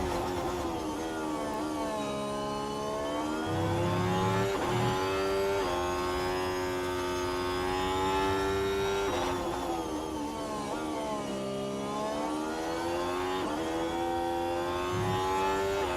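Ferrari Formula 1 car engine from F1 Manager 24 at Albert Park, a loud sustained high-pitched whine that rises and falls in pitch as the car passes, with shifting harmonics and no talk over it.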